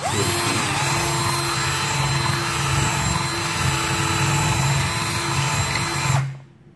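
A power drill enlarging a hole in a singing Santa toy with a 7 or 8 mm bit. It whirs loudly and steadily at close range for about six seconds, then stops abruptly, with no talk.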